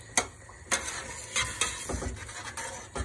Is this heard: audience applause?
no